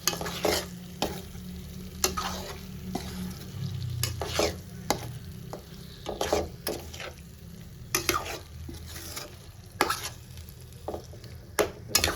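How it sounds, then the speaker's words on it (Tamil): Quail eggs are stirred into a gravy in a pan: a spatula scrapes and taps the pan in irregular strokes over a soft, continuous simmering sizzle, close and fairly quiet. "அப்படியே வந்து எக்கும் கிரேவியையும் அப்படியே மிக்ஸ் கொடுத்துக்கலாம்."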